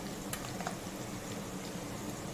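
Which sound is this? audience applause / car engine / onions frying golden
onions frying golden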